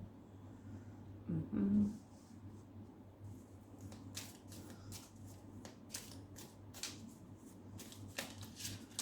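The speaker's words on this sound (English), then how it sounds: "We are going to be shuffling this in two halves because it's difficult to shuffle." Tarot cards being shuffled close by in two halves, a series of soft crisp riffling bursts and flicks over a low steady hum, with a brief thump early on.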